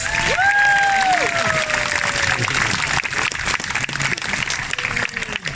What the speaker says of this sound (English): I'd love a round of applause for them